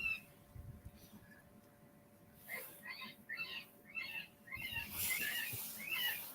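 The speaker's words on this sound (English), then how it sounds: "It's a bird call, isn't it?" Faint, repeated chirping bird calls from a recording played through a car come in short bursts from a distance, a thin electronic-sounding series against quiet background hum.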